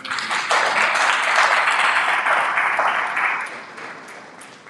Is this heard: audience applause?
yes